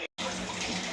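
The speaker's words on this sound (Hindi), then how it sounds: "पीछे से आवाज़ आपको पानी की आ रही होगी" A kitchen tap runs water in a steady, hissing stream after a brief silent gap, filling the scene at moderate volume.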